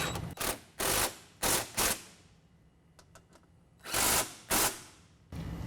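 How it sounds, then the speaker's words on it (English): Bursts of power-tool ratcheting as nerf bar bracket bolts are tightened to the running boards with a 13 mm tool, several short loud runs separated by pauses and a few faint clicks. "we're gonna go ahead and tighten the brackets up to the boards using a 13 millimeter."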